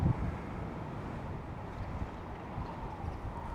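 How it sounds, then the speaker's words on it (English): Wind rumbling steadily across the microphone beside a canal lock, a low continuous buffeting roar with no break and no talking. "There's that wind again."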